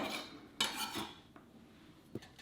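Cooked pawpaw (papaya) is scraped and dropped into a cooking pot, with a sharp metallic clank of utensil on pot followed by softer scraping and a faint tap, close and quiet.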